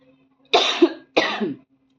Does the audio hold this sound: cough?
yes